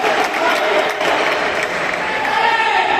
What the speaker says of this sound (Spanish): Nos aplauden que nos rompen las chapas